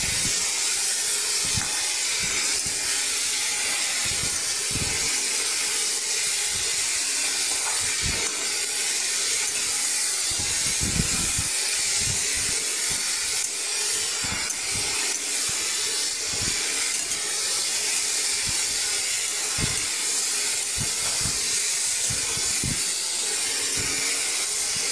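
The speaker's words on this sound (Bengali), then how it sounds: "সর্ষে শুকনো লঙ্কা ফোড়নের ফ্লেভারটা দিয়ে নাড়াচাড়া করে নিচ্ছি।" Mustard seeds and dried red chilli sizzle in hot oil in a kadai with boiled chickpeas, a loud, continuous hiss broken by regular knocks of stirring.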